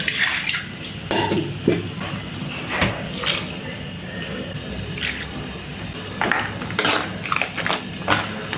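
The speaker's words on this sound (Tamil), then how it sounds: "கொஞ்சமாக தண்ணி ஆட் பண்ணி ஊற்றிக்கலாம்." Water is poured into crab masala in a cooking pan, a steady close splashing pour with bubbling squishes and a few louder bursts, heard alone without talk.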